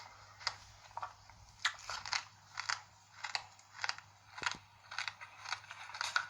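A man biting and chewing on a brick, producing close, loud crunching bites that repeat in a steady rhythm, roughly two per second, with quiet between them.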